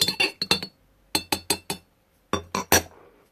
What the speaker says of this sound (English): I'm just going to stir in the stevia